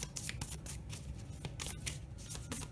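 Tarot cards are handled and shuffled with soft, continuous rustling and light riffling ticks, quiet and close, with no talking.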